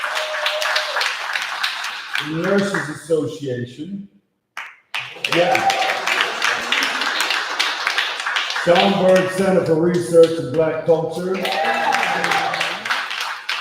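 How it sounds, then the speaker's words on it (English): At a press conference for the 53rd annual African American Day Parade, people in the audience clap continuously in a dense patter under someone speaking loudly into a microphone. "give them a big round of applause."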